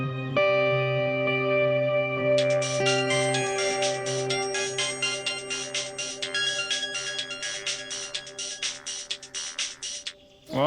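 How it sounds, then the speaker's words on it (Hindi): A phone ringtone plays while a call is placed in a Hindi household drama: a sustained melodic tone gives way to a rapid, pulsing electronic ring that repeats steadily and loudly for several seconds, with no talking. "रुको, हम गोपी को फोन करते हैं"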